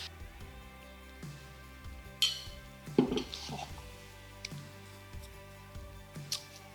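Curry being stirred in a pot, heard as scattered metallic clinks and scrapes of a utensil against the pot at irregular intervals, fairly quiet, with a voice talking faintly in the background.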